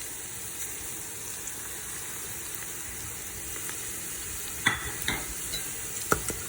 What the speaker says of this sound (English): As your onion becomes translucent, at this point you will add in all your curry and other powders.